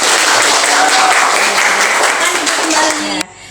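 Schoolchildren in a classroom break into a dense round of applause, many hands clapping at once at steady loudness, then the sound cuts off abruptly near the end.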